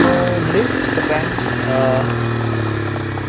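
A modified Honda C70 motorcycle engine runs steadily at close range, its mid-pitched drone holding throughout while someone talks over it.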